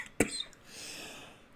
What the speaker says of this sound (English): That's why you're coughing.